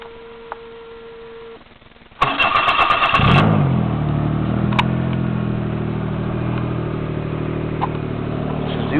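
A 2002 660 four-stroke non-turbo snowmobile engine starts after a quiet moment, then settles into a loud, steady, low idle with a continuous throbbing drone.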